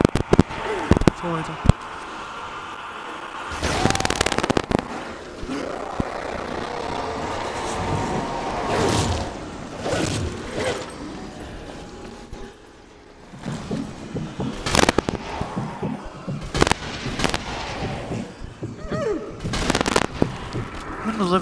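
Explosions and gunfire from the video game Zombie Army Trilogy, with repeated loud booms and bursts through the whole stretch, mixed with game noise and someone talking over them.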